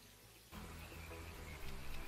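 Rushing water from a water slide in the game Ty the Tasmanian Tiger starts abruptly after a brief lull and carries on as a steady, faint wash with a slight swell near the end.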